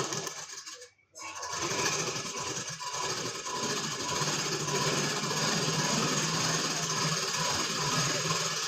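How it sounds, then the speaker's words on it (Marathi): A sewing machine stitches a strip for a blouse, running as a close, continuous mechanical whir after a brief pause near the start. "आता इथे पट्टीला शिलाई करून घ्यायचं आहे."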